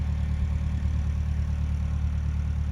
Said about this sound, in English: I've got my tractor up there with the second bale of haylage that I'm taking up